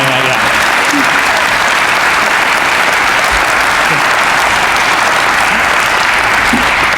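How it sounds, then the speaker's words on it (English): Audience at the Jefferson Forge grand opening applauding the speaker's family, a dense, loud, continuous wash of many hands clapping that fills the whole stretch with no pause. "Can we clap for my family"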